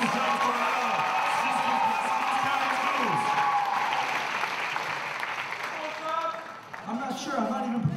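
An audience at a Mr West Essex pageant applauds and cheers, with dense clapping, whoops and a lively crowd roar throughout, while people talk over it.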